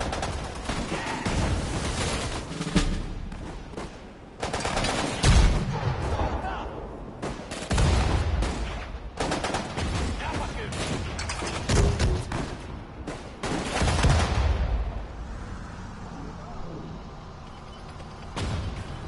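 Machine gun bursts and mortar fire from a war video game, dense overlapping gunshots with heavy thumps throughout, loud and continuous, with voices talking in places.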